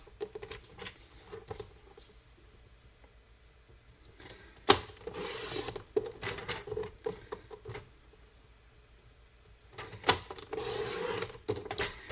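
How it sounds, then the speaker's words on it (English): Scissors cutting card paper into one-inch strips for a stadium wave pop-up card, heard as quiet, close snipping and crisp paper rustling in irregular bursts with pauses between cuts. "we start cutting that into the 1 inch strips"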